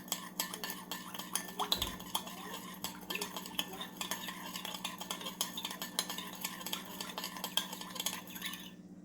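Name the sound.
stirring sugar with orange juice to dissolve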